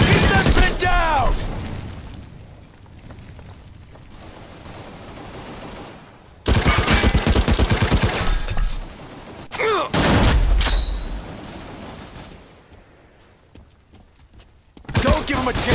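Bursts of gunfire and booming explosions from the World War Heroes shooter game come in loud waves separated by quieter stretches, with voices calling out over the battle.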